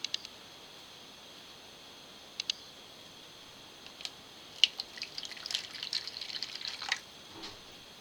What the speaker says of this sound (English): So I will probably pour the 105 grams of water.